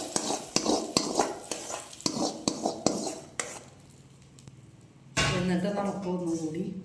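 Fried onions stirred in a small pan with metal spoon taps, then, after a quiet pause, poured into a coconut fish curry with a sudden loud, sustained sizzle while someone talks.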